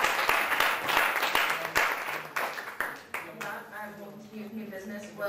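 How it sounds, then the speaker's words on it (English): An audience in a student senate meeting claps for a senator's first bill, a scattered round of distinct claps that thins out and fades, with talk starting over the tail. "And a round of applause for Senator Chaudhry's first bill."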